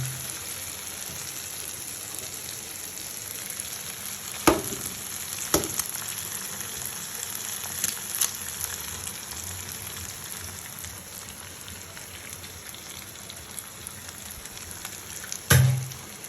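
Onion and potato fry in a pan for a simple shakshuka, giving a steady, fairly quiet sizzle broken by a few sharp utensil clinks and taps.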